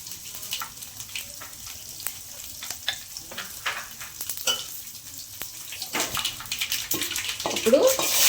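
Mustard seeds and cumin sizzle and crackle in hot oil in a home kitchen, a steady close frying hiss with scattered popping that grows denser toward the end, while a person speaks over it.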